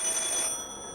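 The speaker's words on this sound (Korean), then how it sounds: "이때 옆집에서 나는 전화벨 소리." A telephone rings in the house next door, heard as a brief, faint, bell-like ring with no talk over it.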